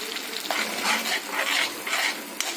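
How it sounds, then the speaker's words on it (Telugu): Half a spoon of ginger-garlic paste being stirred into a frying tomato-onion purée for an okra masala curry, a close, dense sizzle swelling in rhythmic waves with each stir. "ఇందులో ఒక 1/2 స్పూన్ అల్లం వెల్లుల్లి పేస్ట్ వేసుకొని కలుపుకుందాము."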